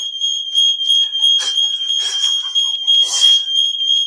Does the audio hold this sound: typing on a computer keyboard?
no